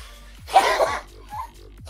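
A single loud, close sneeze bursts out over quiet background hum, followed by softer low sounds and faint breath afterward.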